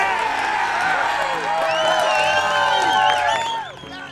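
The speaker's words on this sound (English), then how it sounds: "he gets a much-deserved congratulations and applause from fellow club members, his caddy, and the entire gallery watching" A golf gallery erupts after a putt: a loud burst of cheering crowd with whoops and whistles, tapering off at the end.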